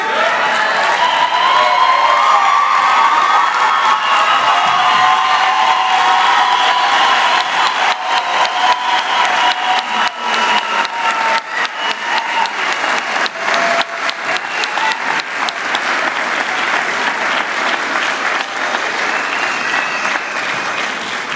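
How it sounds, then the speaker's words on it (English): A large convocation audience gives a standing ovation, with loud, dense, continuous applause sustained for over twenty seconds and a faint undercurrent of crowd voices and cheers. "I think a standing ovation is in order"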